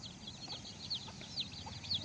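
Chicks give short, repeated high chirping calls at a steady pace over a low background hum, not very close.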